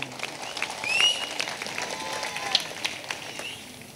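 Audience applause at a silver jubilee celebration of a friends' association, a steady wash of clapping from a crowd that swells early and then holds at an even level, with a few sharper claps standing out.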